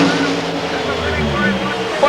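Drag racing cars, including Warren Johnson's Oldsmobile, roar down the strip at the 1991 NHRA Keystone Nationals at Maple Grove, a steady engine din heard under a race commentator's voice.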